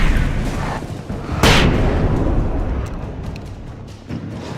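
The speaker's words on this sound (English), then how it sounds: "Flashbang!" Flashbang grenade going off in the video game Alan Wake, a sudden loud broadband burst followed by a long ringing, noisy decay over dense game ambience.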